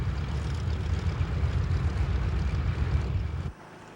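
Steady, loud droning roar of B-29 Superfortress bomber engines, continuous and unbroken before cutting off abruptly near the end, with no voices.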